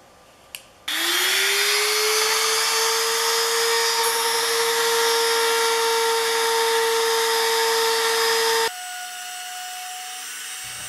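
A router fitted with a profile bit carves a wooden sign, spinning up after a short click into a loud, steady high whine that runs for several seconds before cutting off and winding down.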